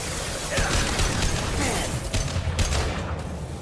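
Gunfire bursts in the Mass Effect 2 Legendary Edition shooter, a dense, loud volley of shots over a steady game background, with a sharper crack near the middle.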